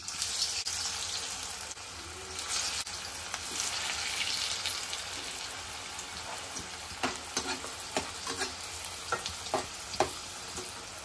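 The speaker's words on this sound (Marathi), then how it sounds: "आता या वड्या आपण फ्राय करून घेऊया। आता मी तेल गरम करायला ठेवलेले आहे, मी डीप फ्राय करते।" Kothimbir vadi, coriander fritters, deep fry in hot oil with a continuous close sizzle, later broken by sharper crackles and spits as the pieces cook.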